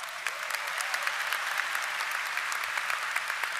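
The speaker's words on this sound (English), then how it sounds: "Give yourselves a round of applause." Steady applause from an audience at a university commencement, a dense patter of many hands clapping continuously at moderate distance, with no talking over it.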